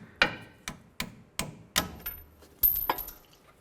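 A hammer strikes the front suspension knuckle of a 2007-2014 Cadillac Escalade, about seven sharp metallic blows spaced roughly half a second apart, close and fairly loud with short ringing decays.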